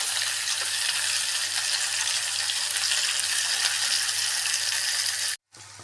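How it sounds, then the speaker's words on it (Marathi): Thinly sliced onions sizzle steadily in a hot pan with oil for a dhaba-style dum aloo, a dense, even crackle close by, broken by a brief silent gap near the end. "आता हे कांदे आपण यामध्ये ॲड करणार आहोत कांदा हा छानपैकी सॉफ्ट करून घ्यायचा आहे"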